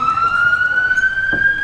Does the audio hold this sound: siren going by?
yes